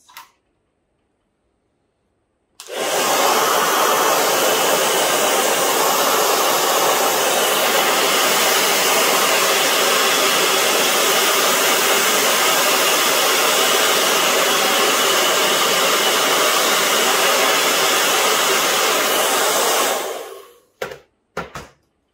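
A heat gun warms the vinyl wrap on an e-scooter to smooth out bumps, giving a steady, loud blowing roar that runs unbroken for about seventeen seconds before it cuts off with a few short bursts.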